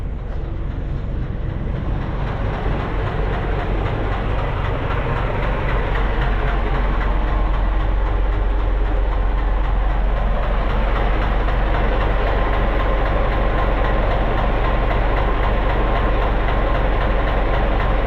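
A heavy engine runs continuously with a loud, steady low rumble and mechanical drone throughout, with no talking.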